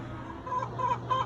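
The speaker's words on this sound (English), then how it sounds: "Look at that big, beautiful rooster." Big rooster on a backyard flock, clucking in three short soft bursts over a steady low hum, fairly faint and with no talking.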